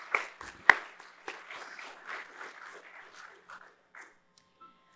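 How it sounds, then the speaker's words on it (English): Sparse, faint applause from a small audience at the NAIRR annual meeting, a handful of scattered claps that thin out and fade after a few seconds, heard alone with no talking. "I think you should give yourselves a round of applause ahead of time."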